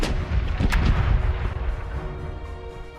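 Ship cannons in the naval game Corsairs Legacy fire a booming artillery volley, a loud burst of overlapping blasts that rolls off into a fading rumble.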